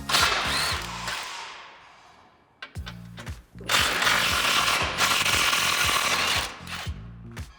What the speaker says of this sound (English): Go ahead and remove those with your 17mm socket.